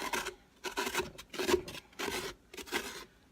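A pumpkin being hollowed out for a jack-o-lantern gives off a rhythmic series of about six rough scraping strokes, close and fairly loud, with short pauses between them.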